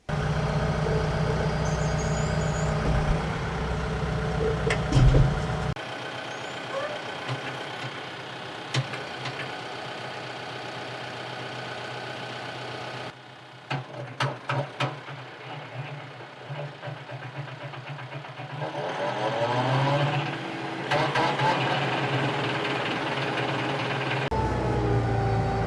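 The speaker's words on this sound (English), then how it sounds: "I'm gonna fire up the tractor, and we'll make sure that everything on here operates the way it should" A tractor engine starts and runs steadily, driving a Baumalight 3P34 stump grinder mounted on the three-point hitch. The running note is loud and continuous, with brief shifts in load and a few short rattling bursts.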